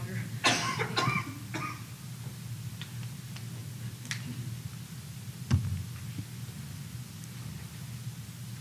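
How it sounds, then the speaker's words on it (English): A few sharp, close coughs in quick succession ring out in a quiet debate hall, followed by faint room hum and occasional small clicks. "I've had this cough for a long time"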